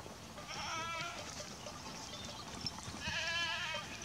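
Goats bleat in bursts from a herd on open pasture, a wavering cluster near the start and another louder run toward the end, with a steady outdoor background between them and no talk.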